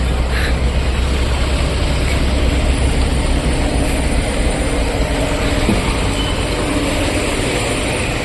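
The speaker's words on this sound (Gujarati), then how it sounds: "ને બરોબર ટ્રેન અહીં નીકળી ભેરમ ભેર" A train passes close by a busy road, a loud, constant broadband roar and rumble that fills the whole stretch without pause or voices.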